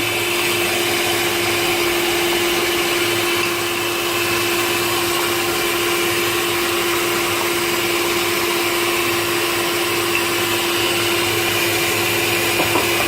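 A countertop electric mixer or blender whirs steadily while banana carrot bread batter, with crushed bananas spooned in, is beaten; the motor drone holds loud and constant throughout with a steady hum and no talking.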